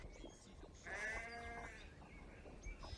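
A flock of noisy sheep bleats in the open, one loud wavering bleat in the middle standing out over quieter calls and background rustle.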